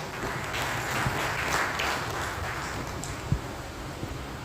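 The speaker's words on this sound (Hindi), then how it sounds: "एक बार बहन के लिए जोरदार तालियां बजाएं।" Audience applause for a young singer at an Arya Samaj religious gathering, a fairly soft, continuous spread of clapping heard from a distance, with a couple of sharper single claps standing out near the end.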